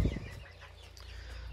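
Young chicks in a pen on a poultry farm, with soft, scattered clucks and peeps at low volume after a brief thump at the start. Nobody speaks.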